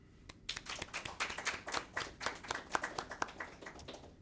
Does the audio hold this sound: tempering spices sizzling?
no